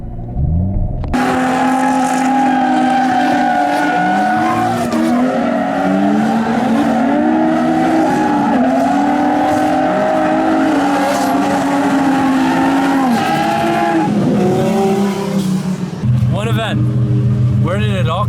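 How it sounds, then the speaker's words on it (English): A Nissan Skyline drifts at a drift event, its engine roaring loud and close with rising and falling revs and tire squeal throughout, while people talk over the noise. "I'll try to follow one more time."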